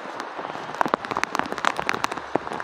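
Heavy rain falls outdoors on a farm, a steady patter with distinct drops striking a nearby surface, moderately quiet and with no voices.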